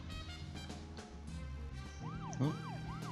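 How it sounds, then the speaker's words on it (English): A police siren wails in a repeating up-and-down sweep in the video game Deadly Premonition, rising over a low engine hum and ambient game sounds. "Keeping the sirens on because it goes faster with them on."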